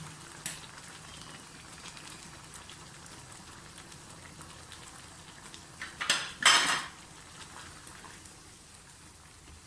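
Fried onions go into a pot of Kashmiri chicken qorma, bringing a soft steady sizzle and a short burst of clattering metal utensil scrapes near the end, close and moderately loud.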